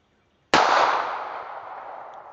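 A North American Arms Pug .22 Magnum mini revolver fires once during target shooting at 15 feet: a single loud, close, sharp crack followed by a long, smoothly fading ring and echo, with no voices.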